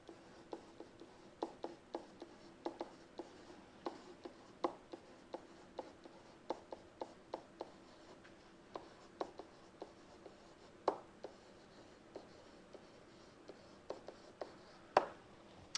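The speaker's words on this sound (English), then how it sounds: "Let me just write that down." During a probability lecture, chalk or marker taps and scratches against a board in sparse, irregular clicks and short strokes, faint and close in a quiet room, with no talking.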